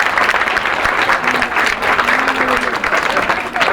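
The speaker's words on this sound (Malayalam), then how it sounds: "നമുക്ക് നല്ലൊരു കയ്യടി പാസ്സാക്കാം" Church congregation applauding after a blessing, a steady dense clapping that fills the whole stretch at close range.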